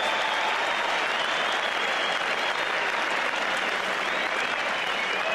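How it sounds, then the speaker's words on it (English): Crowd at a cricket test match applauding, a dense, steady wash of clapping from a large stadium audience, sustained and even with no clear voices. "And applause for Marsh and Australia's 50."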